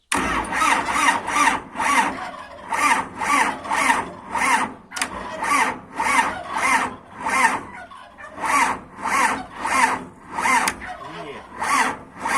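A motorcycle engine with a battery drained over winter is kicked over again and again in a regular rhythm, sputtering each time without catching, with faint voices in between.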